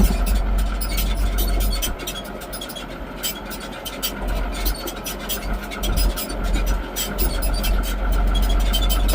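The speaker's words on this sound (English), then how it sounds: "This tractor's sure sweet." A tractor engine running steadily while picking barley bales in a field, a constant close mechanical drone with scraping and rattling from the loader mixed in.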